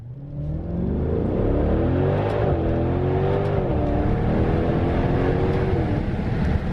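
Engine of a 550 hp 2019 Maserati Levante GTS revving hard after a downshift into first, a loud, steady roar from inside the car whose pitch rises and wavers before dipping near the end.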